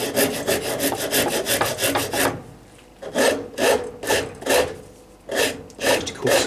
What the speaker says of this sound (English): you can see me going backwards and forwards with this. If you're going this way, it's much easier to sand the lines out